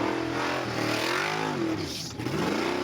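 A supercharged Suzuki 4x4 engine revs hard through an extreme off-road challenge course, the loud note climbing and falling in pitch over a few seconds, close and continuous with no talk.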